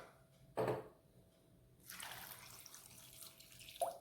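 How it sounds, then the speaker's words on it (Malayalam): Water poured into a pot of washed potatoes in a kitchen, heard as a brief splash followed by a longer, soft stream of running water and a final small splash, all fairly quiet. "വെള്ളം ഒഴിച്ചു കൊടുത്തു"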